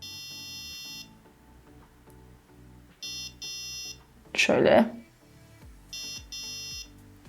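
A Pinoo parking sensor beeps in repeated bursts about a second long, separated by pauses of roughly two seconds, while a voice speaks briefly between them.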